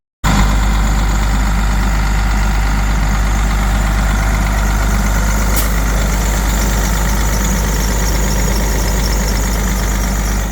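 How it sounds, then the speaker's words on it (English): A Cat C12 diesel truck engine idles steadily and loudly close by, a constant low rumble with a faint rattling knock and no voices. "that Cat C12 was purring just fine"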